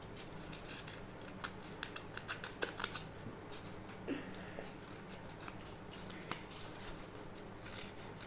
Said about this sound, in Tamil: இப்போ வந்து நம்ம இதை கட் பண்ணிக்கலாம்